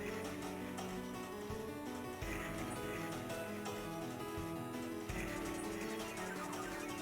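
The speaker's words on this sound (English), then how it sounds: "Pretty much every sound in this song is bit crushed." Gothic electronic song with nearly every sound bit-crushed, a dense, continuous wall of gritty, distorted synths and beats, loud and unbroken with abrupt section changes, no voice over it.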